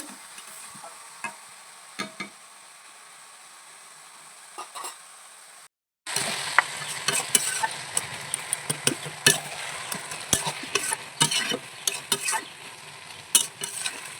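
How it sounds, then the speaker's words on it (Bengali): Malabar spinach greens being stirred in a pan with salt and turmeric: a quiet start with faint scrapes, then a sudden jump to a close, busy sizzle with repeated clattering stirs and spatula scrapes. "নুন হলুদটা শাকের সঙ্গে ভালো করে মিশিয়ে দেবো"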